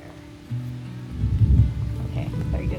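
Rain pours steadily outdoors during a summer storm, with a soft hiss that swells into heavier low rumbling washes midway, continuous and fairly close with no voices.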